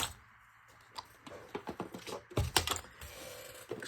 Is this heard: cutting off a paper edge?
yes